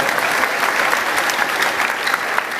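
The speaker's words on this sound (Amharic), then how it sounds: "አጨብጭቡለት ለእግዚአብሔር ባካችሁ።" A church congregation applauds together during a worship service, steady loud clapping from many hands filling the room without a break.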